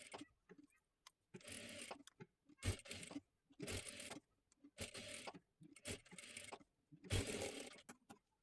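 Domestic sewing machine stitching blouse fabric in short, repeated bursts of whirring, each lasting about half a second with brief pauses between, fairly quiet and close, no talking.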